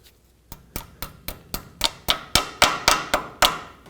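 Sharp metallic hammer taps bending over a cotter pin on a Ford F-150 ball joint nut, about a dozen evenly spaced strikes growing louder, close and alone without talk.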